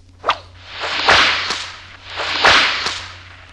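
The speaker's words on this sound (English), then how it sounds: "when you hear the bullwhip crack like" Two sharp bullwhip cracks, each preceded by a swishing whoosh, loud and close, with a short gap between them.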